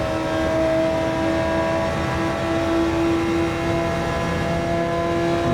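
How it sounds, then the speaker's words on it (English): An Audi R8 GT3 race car in Gran Turismo 7 holds its engine at high RPM, a loud, steady, sustained whine with strong harmonic tones droning without a break. "we love the high RPM"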